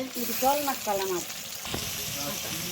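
Garlic paste frying in a pan for goat curry, a steady sizzle running throughout under a voice speaking during the first half, followed by a scrape of stirring.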